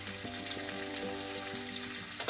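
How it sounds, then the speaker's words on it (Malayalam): Chopped onion, green chilli and curry leaves sizzle in a pan for black gram thoran, a dense, steady frying crackle close by, with a small clatter at the very end. "ഇതിലേക്ക് ഇട്ട് കൊടുക്കാം ഇതിലേക്ക് കറിവേപ്പില ഇട്ട് കൊടുക്കും"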